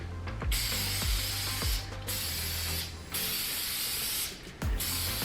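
Aerosol hairspray misted onto hair while setting vintage waves: four long hissing bursts split by short pauses, each break marked by a clicking, ratchety snap from the can, close and loud.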